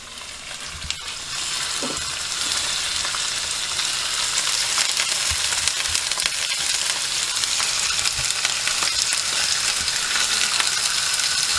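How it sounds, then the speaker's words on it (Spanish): Bluefin tuna cheeks sear in a hot pan over high heat, giving a steady, loud, broadband sizzle that runs unbroken throughout. Occasional faint clinks and stirring noises sit under the sizzle, with no talking. "Marcar las carrilleras con fuego"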